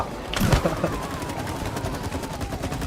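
Gunfire rattles through a round of the co-op video game It Takes Two, a short burst of rapid shots up front followed by lighter continuing fire at moderate loudness.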